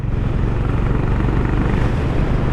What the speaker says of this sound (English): my first impression is it has got a beautiful exhaust note. Hope you can hear that.